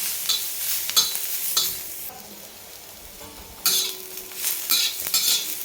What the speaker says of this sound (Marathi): तेल टाकलं की लगेच भाजतो कांदा.